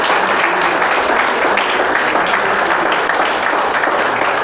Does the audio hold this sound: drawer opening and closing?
no